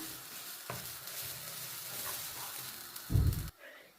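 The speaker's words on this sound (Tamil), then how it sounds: "இப்போ நாங்கள் தேங்காய் பூவை வறுத்து கொள்ளுவோம்" Grated coconut frying in a pan gives a steady soft sizzle, with a brief louder scrape or stir near the end before it quiets.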